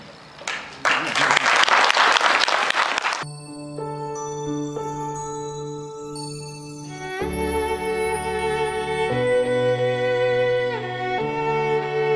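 A crowd bursts into dense hand clapping for about two and a half seconds, then it stops abruptly and sustained music with clear tones takes over.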